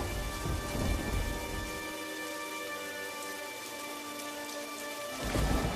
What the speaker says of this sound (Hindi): अचानक से जोर का तूफान आया और बारिश शुरू हो गई